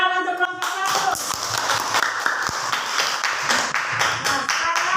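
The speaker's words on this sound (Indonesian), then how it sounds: "Tepuk tangan untuk kelompok 1." Classroom of students clapping hands for a group presentation, a brisk fairly close burst of many claps with sharp individual slaps standing out, following a short bit of talk at the start.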